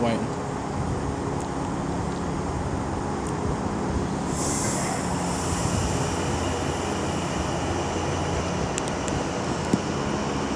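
A Pendolino train rumbles steadily through Milton Keynes Central station on the West Coast Main Line, a continuous broad roar with faint high squeals and clicks, moderately distant.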